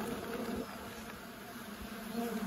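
Honey bees buzz steadily in a dense, close swarm around a beekeeper working the hive in the countryside, a continuous droning hum with no pauses.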